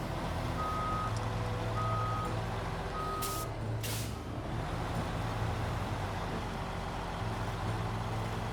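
A truck in the SnowRunner video game gives three evenly spaced reversing beeps, followed by two sharp air-brake hisses, all over a low engine rumble.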